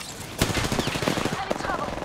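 Rapid automatic gunfire in Apex Legends during a ranked battle royale firefight, dense bursts of shots rolling across two seconds with a sharp onset, mixed with game effects and some voice chatter.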